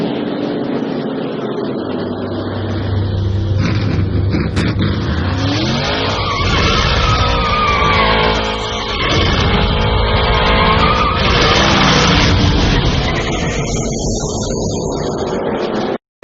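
NASCAR race cars at the 2005 Brickyard 400, loud roaring engines passing and revving close by, with tire squeal and surging engine noise rising and falling throughout.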